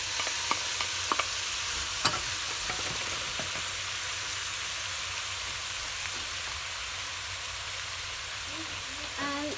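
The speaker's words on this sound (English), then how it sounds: "Adding the tomato." Tomato sizzles steadily with onion in a hot pan, with occasional scrapes and clicks of stirring.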